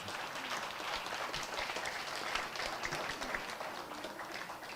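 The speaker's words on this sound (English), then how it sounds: "Let's give a round of applause and welcome our fifth grade boys" An audience claps steadily to welcome a group of fifth grade boys, a dense patter of many hands held at an even level from start to finish without letting up.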